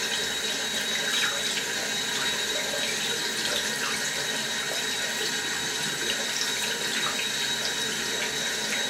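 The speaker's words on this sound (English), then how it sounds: "Got to keep washing them until all the foam is gone." Makeup brushes are rinsed under a running bathroom tap, a steady close hiss of flowing water splashing into a sink with no speech.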